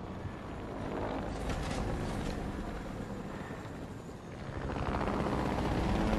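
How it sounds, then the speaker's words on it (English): A helicopter flying in a video game gives a steady, dense rotor and engine roar that holds at a constant level throughout, with no talk over it. "Somebody took the chopper."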